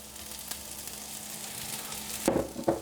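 Mustard seeds popping and sizzling in butter for veggie samosas, a steady soft frying hiss with a couple of louder crackling bursts near the end, close and unaccompanied by talk.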